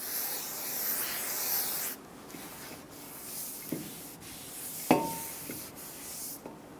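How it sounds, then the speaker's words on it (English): A clean rag wiped across the brake rotor of a 2014-2018 Chevrolet Silverado 1500 during a front brake job, a steady close hiss of rubbing for about two seconds, then quieter scuffs and a few sharp knocks as the rotor is handled. "Wipe it down with a clean rag. Flip the rotor over."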